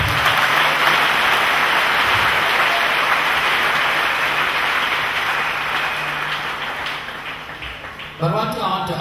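Sustained clapping from an audience at a family reconciliation gathering in Cameroon, a dense even wash that fades slightly before a voice cuts in at the end.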